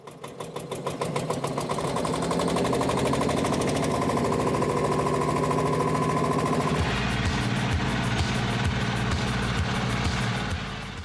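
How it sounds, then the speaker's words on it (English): An old Porsche Junior tractor engine cranks with rapid regular thumping, catches, and settles into a loud, steady rhythmic idle close by. "Then you pull the ignition switch, and off it goes."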